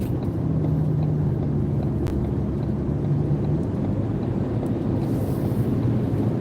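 Car cruising and merging onto a road, a steady broadband engine and road rumble with wind noise that holds close and even throughout, no talking.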